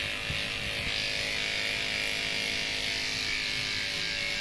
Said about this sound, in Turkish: Refkı Bey şu an tıraş oluyor.